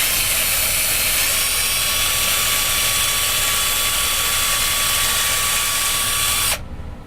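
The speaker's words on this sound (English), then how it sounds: "take some 80 grit sandpaper, fold it, and we're going to sand the stick" A 1/8 inch wooden dowel spun against folded 80 grit sandpaper, a loud, steady whirring drone with a high whine that holds evenly for several seconds, then cuts off abruptly.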